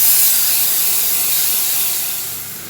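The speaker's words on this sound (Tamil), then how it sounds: "இந்த அரைச்சி வச்சுருக்கலையே கிரேவி அதை ஊற்றிடலாம்." Ground gravy hits a hot pan in a South Indian curry leaves rice and potato fry preparation, giving a loud, steady hiss and sizzle that slowly fades. No talk.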